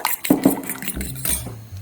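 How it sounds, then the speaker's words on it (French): Egg yolks are beaten with salt in a bowl for carbonara: two sharp utensil clinks against the bowl, then softer quick stirring and scraping, close and without talk. "je vais les battre avec un peu de sel"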